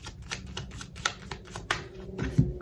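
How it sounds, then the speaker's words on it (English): A deck of tarot cards being shuffled by hand, a run of close papery riffles and soft slaps in an uneven rhythm, with no talking. "I'm just going to reshuffle all these cards so that nothing gets all repeated or mixed up"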